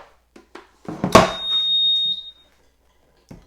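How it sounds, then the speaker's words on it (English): Quiet clicks lead into a thud, then a reptile thermostat with no probe attached gives a sharp electronic beep for about a second, followed by more faint clicks. "why it's making that beeping sound is because there's no probe within it"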